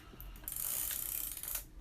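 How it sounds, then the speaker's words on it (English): Film advance crank on a Yashica Mat LM twin-lens reflex camera winding forward, a close, quiet mechanical ratcheting whir lasting under two seconds. "you just bring this up, crank it forward, it'll stop automatically, bring it back to get the shutter ready"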